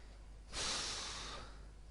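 Heavy breathing while playing the SCP-087 horror video game: one long, close, breathy exhale or snort-like rush of air that swells and slowly fades over steady background hiss, with no talking.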